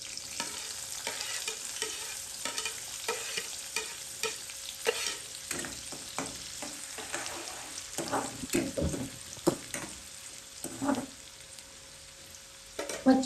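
Chopped onion sizzles in hot oil with bay leaf and curry leaves for a spicy Marathi fish curry, with steady frying hiss and repeated spoon stirring scrapes in the pan, no voices.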